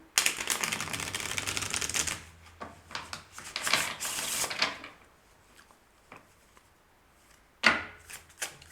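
Bursts of quick riffling clatter as cards are shuffled, several rounds separated by short pauses, close and fairly loud with no talking.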